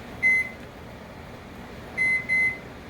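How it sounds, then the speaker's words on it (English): Three short electronic beeps from a kitchen timer being set for six minutes while baking Swedish bread, one isolated chirp followed later by a closely spaced pair, clear and near in a quiet room. "I'm putting a timer on for 6 minutes."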